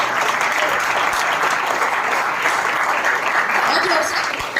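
A church congregation at a worship service claps loudly together, a dense, sustained wave of applause filling the space evenly, with a voice speaking faintly beneath it before it tapers at the end.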